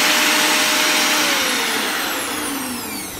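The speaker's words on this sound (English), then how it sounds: "Increasing the load on the motor" A kitchen mixer motor being tested under increased load of 800 to 850 watts, a loud continuous whine whose pitch slowly drops as the load rises.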